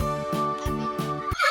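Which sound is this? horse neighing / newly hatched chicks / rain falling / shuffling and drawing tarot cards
horse neighing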